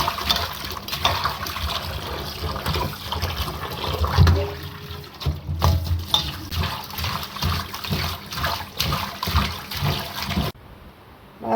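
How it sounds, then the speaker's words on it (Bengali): Water splashing and running as cut fish is rinsed by hand in a kitchen, a continuous sloshing wash with irregular splashes and some louder dips, ending abruptly near the end. "মাছ ধোয়া হয়েছে"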